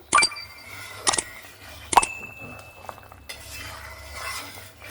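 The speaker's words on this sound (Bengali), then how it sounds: "ঢাকনাটা খুলে নিয়ে আরেকবার নাড়াচাড়া করে নিলাম।" Potatoes cooking in a pan with lentil fritters, stirred after the lid comes off: three sharp metallic clinks of a utensil against the pan, then a soft scraping sizzle, close and without talk.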